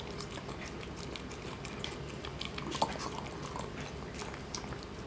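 A dachshund eating chicken dog food, with soft, steady chewing and biting close by throughout, faint and continuous with a few sharper crunches.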